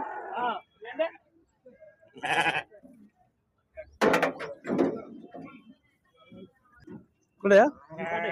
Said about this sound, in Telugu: పద్దెనిమిది గొర్రెలు ఒక పిల్ల అండి